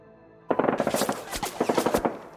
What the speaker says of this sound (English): they shoot with their SMGs and heavy Tesla